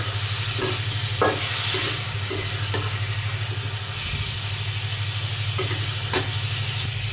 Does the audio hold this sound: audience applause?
no